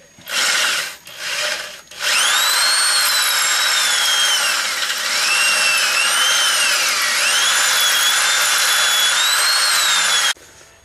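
A power drill boring holes in metal parts for a giant robot build, a few short whirring bursts, then one long loud high-pitched run with the pitch dipping and rising under load before stopping abruptly.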